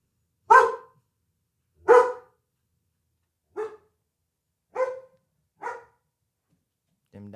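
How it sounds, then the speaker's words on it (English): Several dogs bark in a steady sequence, five or six separate woofs spaced about a second apart, moderately near and clear with no talk over them. "Them dogs."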